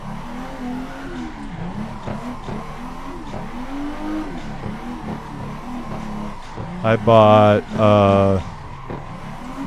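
A Toyota JZX90 in a racing sim video game revs and winds its engine up and down in repeated sweeps under steady road noise, and someone speaks briefly over it near the end.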